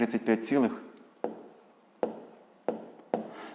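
Numbers are written by hand while solving a fifth-grade maths exercise: after a brief voice at the start, four distinct pen strokes land about a second apart, close and fairly quiet.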